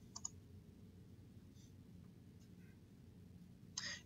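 Computer mouse clicks during a software installation, a few faint, crisp clicks over a low room hum, with one click near the start and another near the end.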